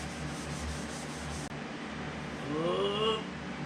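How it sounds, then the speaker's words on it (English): Emery cloth rubbed against rusty steel mast rails on a 1998 WoodMizer LT40 Super Hydraulic sawmill, a close, quiet, continuous scratchy scrubbing with a short break partway through. "take a emery cloth and clean these mast rails where they have that surface rust"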